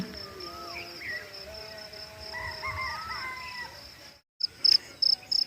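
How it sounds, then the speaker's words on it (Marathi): Steady high-pitched cricket chirping runs throughout with birds calling over it, then cuts briefly before a few sharp closer chirps return, in a village near a soybean field in the morning. "इकडं रातकिड्यांचा आवाज तर"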